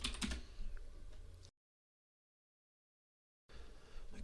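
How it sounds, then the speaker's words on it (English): Keys tapped on a computer keyboard while entering Linux install commands give a quick, close burst of clicks, then two seconds of total silence, then faint tapping again. "I'm going to start typing in the commands"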